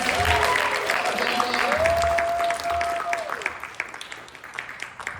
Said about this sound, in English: another round of applause for our Just Shapes and Beats players